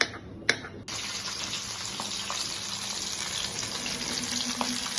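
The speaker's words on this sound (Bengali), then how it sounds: "মাছগুলোকে উল্টে আর 1 পিঠ ভালো করে ভেজে নেব" Pabda fish fry in a pan over a low gas flame, a steady, close sizzle that rushes in suddenly after a couple of brief clatters, then holds evenly with occasional small pops.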